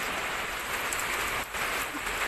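Steady rain falls in a constant, dense hiss with no gaps, heard alone at a modest level.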